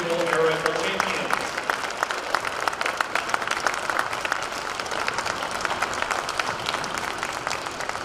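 Audience applause for the 2023 national collegiate individual air rifle champions at the NCAA rifle championship, a steady wash of many hands clapping that fills the hall for about eight seconds.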